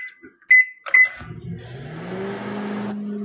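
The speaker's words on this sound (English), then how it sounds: "All right, so we're gonna put it in the microwave." A kitchen microwave oven beeps a few times as buttons are pressed, then starts up with a steady, close humming drone that runs on to the end.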